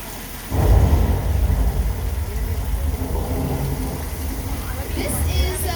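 A garden sprinkler shoots water straight up to fake rain for a film shoot, a loud hissing patter of falling drops that starts abruptly and keeps a steady rushing texture, with a brief higher squeal near the end.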